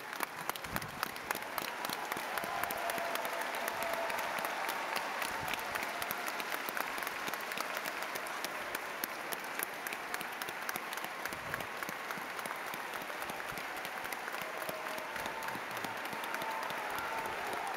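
Large audience at an outdoor family festival with Pope Francis bursting into sustained, steady applause, dense clapping filling the whole stretch without pause.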